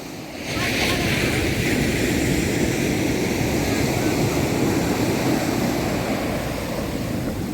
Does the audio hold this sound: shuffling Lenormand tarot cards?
no